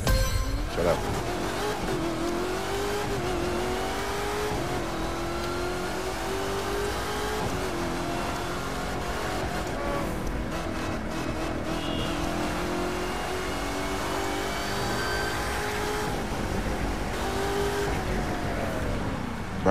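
A Corvette C7 ZR1 in The Crew 2 drives hard with its supercharger whining, rising and falling pitched tones over a loud continuous engine roar through gear changes, with speech mixed in.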